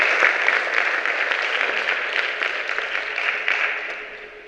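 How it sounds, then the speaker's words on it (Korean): An audience at an academic conference opening ceremony claps in a dense, sustained burst of applause that stays strong for several seconds before tapering slightly at the end. "그래서 한번 격려와 함께 큰 박수를 부탁드리도록 하겠습니다."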